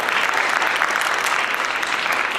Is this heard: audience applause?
yes